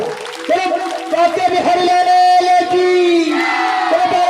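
Crowd at a Hindu religious discourse festival in Bihar cheering loudly on request: sustained, tonal shouts and cheers from many voices ring out together, rising and falling in strong waves close by.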